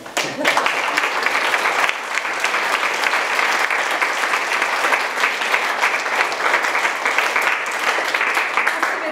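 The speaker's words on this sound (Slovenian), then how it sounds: "zaploskate za čudovite ilustracije" An audience at a school book event gives sustained applause, dense rapid clapping from many hands that continues steadily throughout, with a voice faintly audible beneath it.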